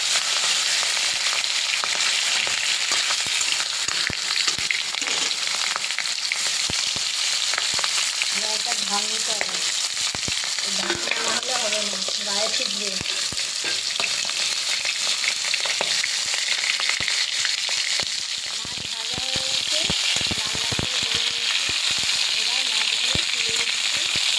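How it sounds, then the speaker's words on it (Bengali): Boal fish pieces fry in oil in a wok with a loud, steady sizzle and constant spitting crackles throughout, while a voice is faintly heard partway through. "যতই মাঠাই মাখাই না কেন এই বোয়াল মাছ ফুটবেই এবার কড়াইতে দিয়ে দিলাম"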